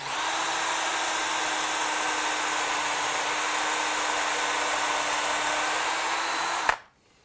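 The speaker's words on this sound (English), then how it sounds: "we're going to drill the holes on our top" A power drill bores holes into top rails with a steady, loud, continuous whine for several seconds, then cuts off abruptly and the room falls nearly silent.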